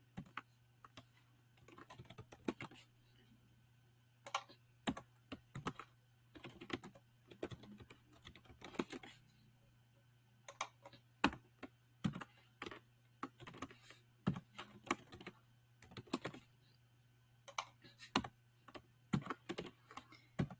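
Fingers type HTML table header tags on a computer keyboard in quick irregular bursts of crisp, close key clicks separated by short pauses over a faint steady hum.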